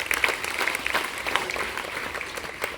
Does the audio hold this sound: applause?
yes